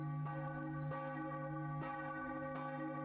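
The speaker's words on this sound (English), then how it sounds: "A bell." A bell in the detective puzzle game The Case of the Golden Idol tolls four times at a slow, even pace, each resonant strike ringing on and fading into the next, alone with no voices.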